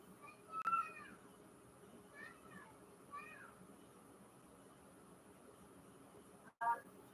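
A kitten meows several times, with short high calls near the start and a sharper meow near the end, all fairly faint over a quiet room hum.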